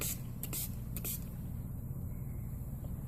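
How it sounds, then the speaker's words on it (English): A spray bottle gives three short spritzes of water in quick succession onto a special-effects acid burn makeup, faint hissy bursts over a low background rumble. "now I'm going to spritz it with some water so it can bubble up"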